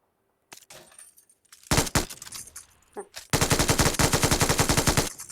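A video game gun fires a few scattered shots, then a long sustained burst of rapid automatic fire, loud and dense.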